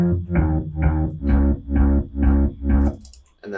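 A synthesized, distorted bass guitar line plays seven evenly spaced, punchy notes in a steady rhythm with no sliding between them, loud and up front, ending with a short high flourish.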